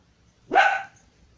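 A small dog gives a single clear, close bark that ends abruptly in a quiet room.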